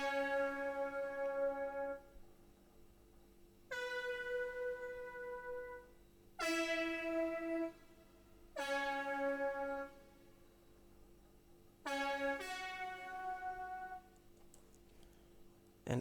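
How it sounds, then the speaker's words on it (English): A Synth Brass preset from the Expand plugin plays a quiet sequence of sustained brassy chords, each swelling on and then cutting off, with short gaps of near silence between them. "This is a Synth Brass from Expand"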